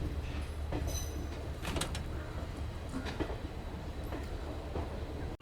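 Basava Express passenger train on the Bengaluru–Mysuru line, a steady close rumble of wheels on rails with clattering and faint metallic clicks throughout, no voices.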